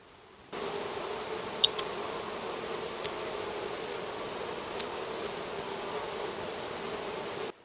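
Honeybees hum around a hive during a spring colony split, a steady, even drone of many bees close by with a few faint sharp clicks and no talking.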